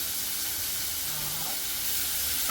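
Onions and tomatoes sizzling in a pan for a creamy mushroom masala, a steady, even hiss of frying that holds for the whole stretch, with brief faint voices behind it.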